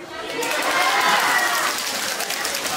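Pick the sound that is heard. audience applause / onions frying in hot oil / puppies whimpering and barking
audience applause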